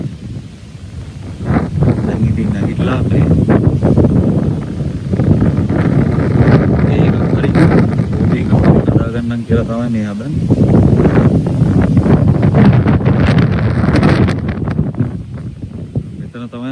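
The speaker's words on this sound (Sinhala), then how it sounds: "අර හුළඟක් එනවා මේ හරියට කුඩාරම් ගලවගෙන යන සයිස් එකට හුළඟ" Strong wind gusts across a tent campsite in the forest, roaring loudly and continuously into the microphone as someone talks over the blustery noise.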